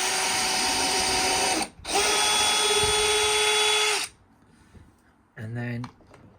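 A power drill fitted with a masonry bit bores into brick for mounting a wired doorbell, running in two loud sustained bursts with a brief pause between, then stopping; a short tonal blip follows near the end.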